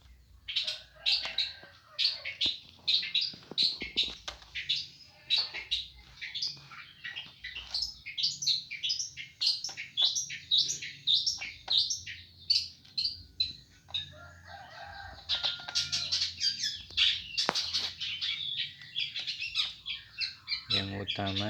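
A magpie robin (murai batu) chirps and sings in rapid, irregular bursts of bright notes, fairly close, with brief pauses and some background clutter around it.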